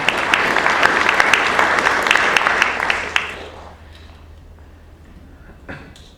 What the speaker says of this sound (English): Please give her a round.